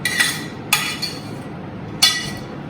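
Metal utensils clink sharply against a pan as red sauce is transferred into a bigger pan, with three or four distinct bright clanks spaced over a couple of seconds, close and clear with little else around.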